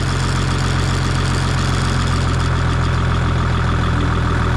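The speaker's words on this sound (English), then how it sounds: "Old tractor been sitting for years." An old tractor that sat unused for years idles at about 900 RPM, a loud, close, steady low rumble with an even mechanical pulse and no voices.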